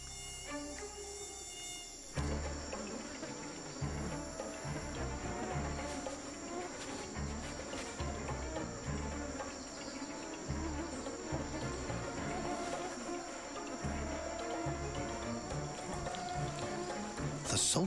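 Mosquitoes whine in a steamy rainforest after a storm, a dense, steady insect hum with crickets chirping throughout. It starts quietly and then swells into a loud, continuous chorus.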